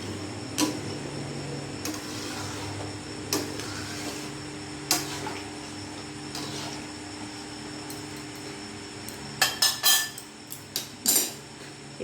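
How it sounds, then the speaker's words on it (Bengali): A spoon clinks and scrapes against a pot of mutton curry over a full gas flame, in sparse taps that grow into a quick cluster near the end over a soft burner hum. "গ্যাসের ফ্লেমটা ফুল করলাম, ভালো করে নাড়াচাড়া করে নিলাম।"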